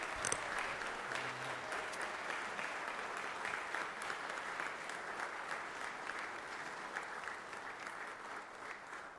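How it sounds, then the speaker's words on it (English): Legislative chamber audience applauding the governor's family at the Georgia Senate, a sustained, even wash of clapping from many hands that runs the whole length without a break. "let's give them a big round of applause too"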